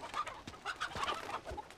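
Chickens in the video game Uncharted 2 give a run of short, sharp clucks, several quick bursts close by with brief gaps between, and no voices over them.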